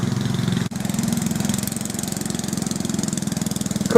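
A small tractor engine runs steadily with a pulsing, rhythmic low drone while mowing a lower area, fairly near and continuous, with a brief dropout early on.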